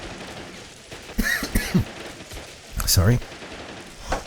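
Machine gun fire from a Willys Jeep in the World War II strategy game A World at War, heard as short bursts of shots with commentary and a brief spoken word over the battle.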